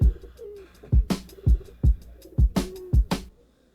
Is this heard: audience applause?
no